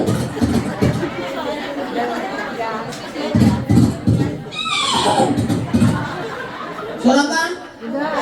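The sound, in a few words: person imitating a horse neighing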